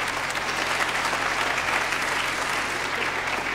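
Enthusiastic audience applause, a dense, continuous clapping from a large crowd, honors former choir members at a fall gospel concert in November 1998.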